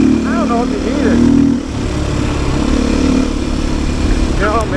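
A Beta 500 RS motorcycle engine lugs at low revs during a ride, with a steady low rumble running throughout while a voice talks over it.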